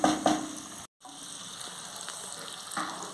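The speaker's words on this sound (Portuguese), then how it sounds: "Ficando já fritinho" Rice and sun-dried beef frying in a pan, giving a soft, steady sizzle with a couple of sharper crackles at the start and a brief dropout before the quiet frying resumes.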